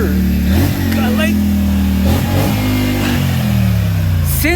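A 2020 Polaris Sportsman 850 ATV idles close by with its exhaust manifold welded solid. The engine runs loud and steady with small rises in revs, and a voice speaks over it.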